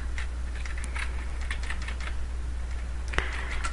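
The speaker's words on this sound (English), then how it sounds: "I'm going to press this, my arrow keys over to get this where I want it" A computer keyboard's arrow keys get pressed during photo editing work, giving soft, scattered clicks at close range over a low steady hum, with one sharper tap near the end.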